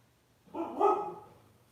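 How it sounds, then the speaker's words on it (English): A single dog bark, fairly faint and a little distant, stands out briefly against a quiet background. "There goes Nola barking."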